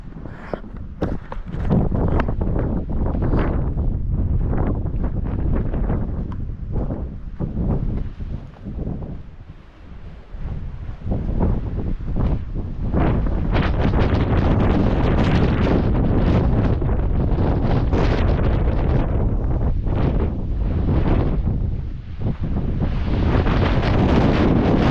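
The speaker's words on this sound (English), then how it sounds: "There's nothing breaking the wind here." Strong wind gusts sweep across an open Utah plateau, roaring loudly into the microphone in rushing, buffeting surges that barely let up.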